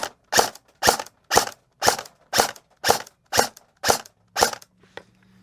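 An airsoft AK AEG fired in semi-auto with 3.2 gram BBs, nine sharp, evenly spaced shots about half a second apart, loud and close, followed by a low steady hum.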